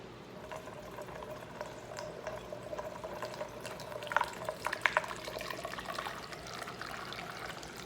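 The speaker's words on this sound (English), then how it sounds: "I have a funnel, and I just put the funnel in." Distilled water pours through a funnel into a bottle, giving a faint, continuous trickle and gurgle close by, with a few small splashy bursts and no talk.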